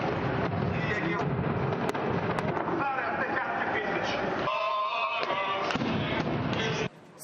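Maidan protest clash at night with gunfire and stun grenade blasts, a dense chaotic barrage of bangs and crowd noise, while a voice talks over it throughout.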